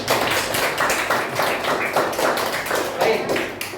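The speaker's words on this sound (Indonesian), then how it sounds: "Tepuk tangan dulu buat kita." A class of students claps together during a lesson in a school classroom, producing a dense, continuous patter of many hands for about four seconds.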